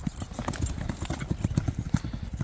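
Hooves of a young colt clip-clopping at a steady walk, with dense rhythmic footfalls close by and faint background sounds.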